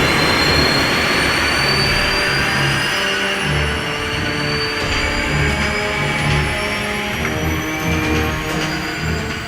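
Boeing 737 jet engines roaring at high power during a go-around, a loud continuous rumble with a rising turbine whine that fills the whole clip.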